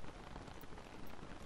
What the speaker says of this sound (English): not in a good place for rain.